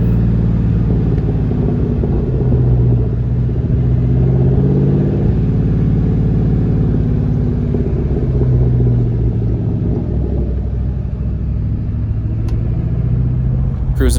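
Ford Mustang cruising through town, its engine a steady, close low rumble that swells slightly at moments and runs continuously with no talk.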